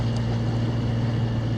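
A sailboat motors along the canal near Pont Champlain in Montreal, its engine giving a steady low drone with a constant hum throughout, close and unbroken, with no voices.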